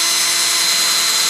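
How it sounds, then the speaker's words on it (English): A small drill boring an eighth-inch hole through the tip of a sheath, a steady high whining drone that runs unbroken, loud and close with no voices. "One of those things for the future is to drill a hole."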